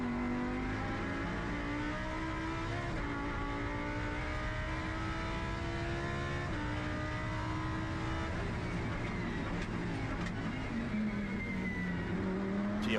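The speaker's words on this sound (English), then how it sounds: "Let's just have a listen to this beautiful V10." Onboard a Lamborghini Super Trofeo V10 race car at The Bend Motorsport Park, the engine screams loudly and steadily, its pitch sweeping up and down through quick gear shifts, with no talk over it.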